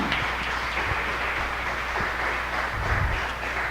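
A church congregation at a Portuguese-language worship service claps together in praise, a dense, continuous wash of hand claps held at an even level throughout.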